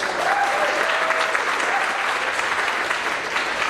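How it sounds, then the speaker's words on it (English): A high school spring concert audience claps in a steady, dense round of applause that holds at full strength throughout, with a voice faintly audible underneath. "So a round of applause for all our staff here in the Performing Arts Department."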